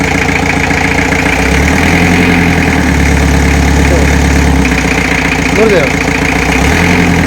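A Willys Jeep engine idles loudly and close, its low rumble rising twice as it is lightly revved and settles back, while people talk beside it.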